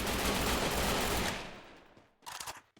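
A brief flurry of dense gunfire from the Free Fire video game, loud and continuous at first and then fading, followed by a short burst of shots.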